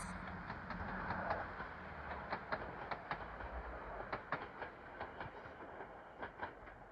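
Class 150 and Class 146 diesel trains pull out of York station, heard as a low rumble under a run of rhythmic wheel clicks over rail joints, moderately distant and fairly faint.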